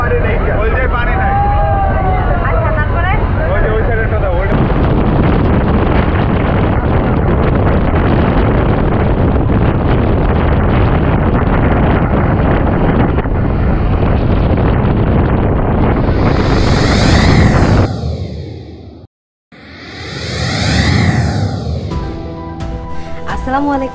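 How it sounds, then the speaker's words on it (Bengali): Strong wind and sea waves batter a passenger launch crossing the sea between Saint Martin and Cox's Bazar. A loud, continuous rushing roar with faint voices underneath cuts out briefly near the end, then surges back. "অনেক অনেক ঢেউ লঞ্চ কাঁপতেছে"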